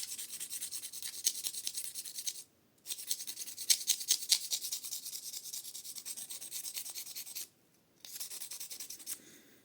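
Sandpaper scrubbed by hand over a rusty knife blade, fast rasping back-and-forth strokes in three bursts separated by short pauses, close and moderately loud with no talking.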